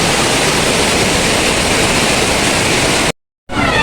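Steady roar of flowing water at a swimming spot, loud and continuous like a small waterfall, cutting off abruptly near the end and resuming briefly.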